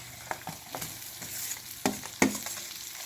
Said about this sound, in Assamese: এতিয়া মাংসখিনি ভালকৈ লৰাই দিছোঁ।